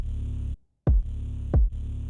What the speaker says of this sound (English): Then what I did from there is I added bass boost.